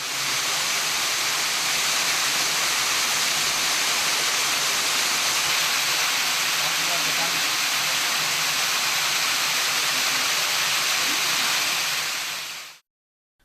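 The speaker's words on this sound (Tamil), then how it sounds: "ஐயர்மலை ரத்னகிரீஸ்வரர் கோயில் படிக்கட்டுகளில் மழைநீர் அருவி போல கொட்டியது" Rainwater pouring down the stone steps of the Ratnagiriswarar temple at Ayyarmalai like a waterfall, a loud continuous roaring rush that fills the scene until it stops suddenly.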